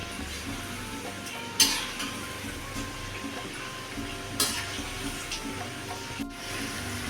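Snake gourd 65 fries in oil on a medium flame with a soft, steady sizzle, while a utensil turns the pieces, giving a few sharp scrapes and clinks against the pan.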